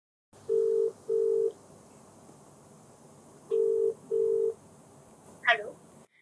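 A telephone ringback tone sounds as a call is placed: two pairs of steady beeps separated by a pause, followed by a brief click.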